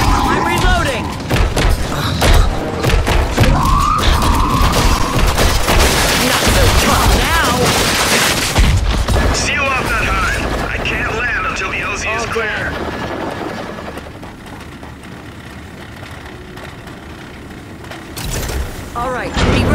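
Gunfire in the Gears 5 video game, dense bursts of shots and heavy thumps over a whirring helicopter-like drone, with shouted voices breaking in through a loud, chaotic firefight.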